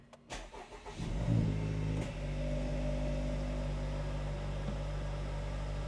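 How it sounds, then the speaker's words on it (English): An Acura Integra Type-S, tuned with a Hondata FlashPro, cranks for about a second, catches with a rev, then settles into a steady, even idle close by. "We'll unplug the FlashPro and we'll start the car just so you guys can see it."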